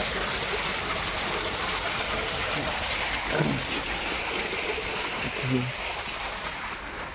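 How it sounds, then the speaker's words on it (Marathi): Water gushes out of an irrigation pipeline valve outlet in a field of garlic and vegetables, a constant broadband outdoor rush that runs throughout, with faint brief background sounds over it. "तिथंच पाईपलाईनचं बॉक आहे, असं पाणी जात आहे."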